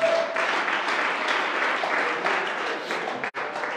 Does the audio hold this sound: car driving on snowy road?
no